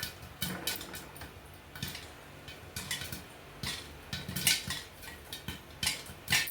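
Metal lid and pot clatter while making popcorn at home, a series of sharp clinks and taps at an irregular rhythm, close and moderately loud with quiet between hits.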